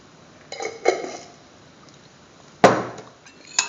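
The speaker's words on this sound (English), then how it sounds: "Mix the egg with the salt." Whisking egg with salt in a bowl: a few quick clinks of utensil against the bowl, then a sharper louder clatter near the end, close and alone.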